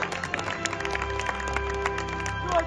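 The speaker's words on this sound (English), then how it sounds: "Audience members, can we have a round of applause?" Audience clapping at a bodybuilding show, a few seconds of steady applause under loud music.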